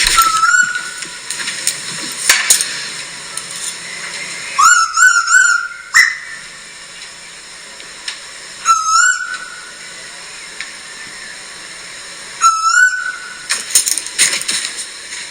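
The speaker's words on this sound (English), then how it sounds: "That's the sound of the common Koel" Common Koel, an Eastern or Pacific Koel cuckoo, calling in a home back garden: several bursts of rising, whistled notes in repeated phrases over steady background noise, fairly close and clear.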